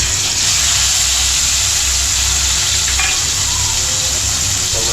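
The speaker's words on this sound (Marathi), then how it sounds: "टोमॅटो टाकणार आहे" Tomatoes fry in hot oil with a loud, continuous sizzle and a few light clinks, heard up close without speech.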